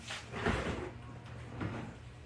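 A kitchen junk drawer is pulled open and pushed shut, giving two short rattling slides with a pause between them, close and moderately loud.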